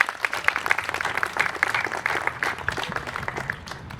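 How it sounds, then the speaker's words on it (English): Press conference audience claps in a round of applause, a moderately loud patter of hands from a modest crowd that thins slightly toward the end. "Let's give them a round of applause."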